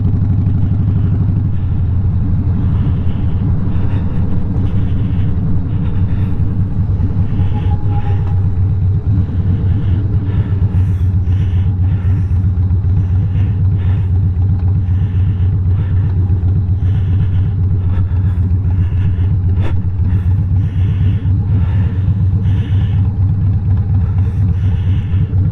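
Motorcycle engine fitted with an S&S Super E carburetor, idling with a deep, steady, loping rumble heard up close, unchanging and alone throughout.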